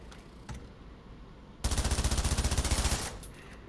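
A submachine gun fires a rapid, evenly spaced burst of about twenty loud shots lasting over a second in the Pavlov VR shooter game, preceded by a couple of faint clicks and followed by a brief fading tail.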